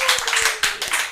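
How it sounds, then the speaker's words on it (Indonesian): A small audience at a podcast recording claps in a short, lively burst of applause, close and fairly loud, with no talk over it. "Kita kasih tepuk tangan dulu dong."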